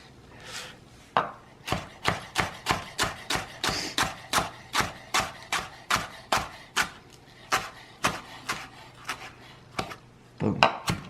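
A knife chops steadily through rolled-up onion and greens on a cutting board, about two dozen crisp, evenly spaced knocks, close and clear with a brief pause and a final flurry of cuts.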